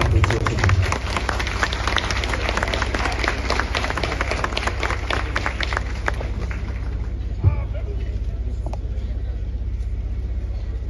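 Dense, steady applause from a large crowd at a Haitian national police graduation ceremony, rolling on for several seconds before thinning out and fading into a murmuring hall.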